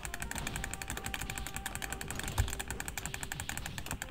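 Rapid, steady clicking of arcade buttons being mashed during a side-scrolling beat-'em-up, a continuous light rattle of presses with one slightly heavier knock midway and no talking.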